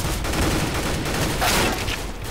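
Kalashnikov assault rifle fire in CS:GO, a dense, loud continuous burst of rapid shots packed tightly together for a couple of seconds, with no voices over it.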